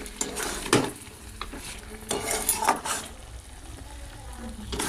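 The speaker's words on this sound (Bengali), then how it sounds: "ভালো করে এটাকে নাড়াচাড়া করে রান্না করতে হবে কিছুক্ষণ" Palak chicken cooking over a very low flame is stirred in the pot, the utensil scraping and clattering in a few sharp strokes over a soft, low sizzle, with no voices.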